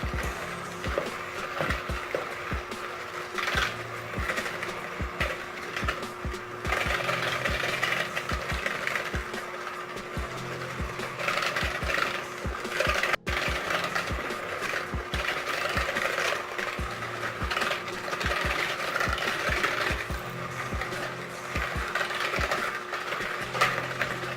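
A mixer whirring as it blends sugar into an ice cream base, a steady mechanical hum with rhythmic clicking and rattling of the beater against the bowl, no voices.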